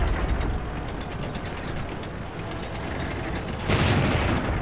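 An ARL 44 tank's main gun fires at an enemy VK in World of Tanks, with a loud boom breaking out near the end over a steady low rumble of engine and battlefield noise.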